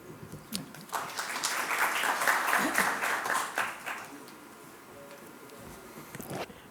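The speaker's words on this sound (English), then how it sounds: "I think we need more round of applause for everybody" Applause from the audience at a cybersecurity CISO summit swells into a dense wash of clapping, then thins to scattered claps that fade toward the end, with faint voices underneath.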